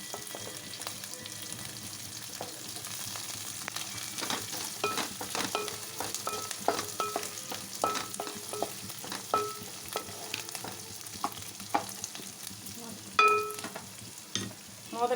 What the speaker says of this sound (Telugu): తాలింపులు బాగా ఆయిల్లో ఫ్రై చేసుకోవాలండి.